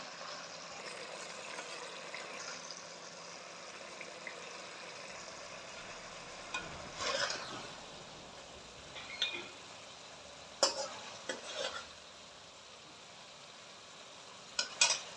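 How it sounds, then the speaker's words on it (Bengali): Small Morala fish fry in a pan with a soft, faint sizzle, punctuated by light clinks and scrapes of a utensil as the pieces are lifted out. "এবার আমি মাছটা তুলে নেব।"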